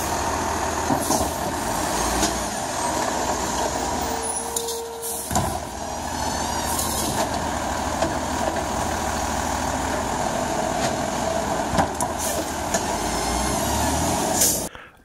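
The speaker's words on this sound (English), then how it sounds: "take all the garbage out to the street and the garbage truck will come and" A garbage truck collecting curbside garbage rumbles and idles nearby, with hissing bursts of air brakes and clanks as it works along the street.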